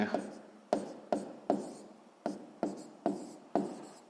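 Pen strokes writing out a fraction calculation, a steady series of about eight short scratchy marks at a regular pace, close and fairly quiet, with no talking.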